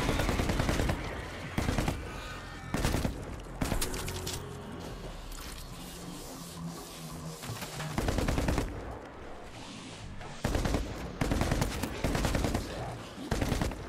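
Rapid SMG fire in the video game World War Z: Aftermath rips out in loud, clustered bursts, stopping for several seconds in the middle before more bursts return.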